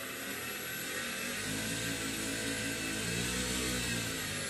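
An electric motor powered by a 54-volt series pack built from a Ryobi 40V battery and three Milwaukee 18V batteries runs with a steady, loud, high whine, its pitch rising slightly as it spins up.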